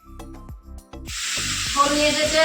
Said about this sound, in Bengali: প্রিয়া এখন ঠাকুরের বাসনগুলোকে মেজে নিচ্ছে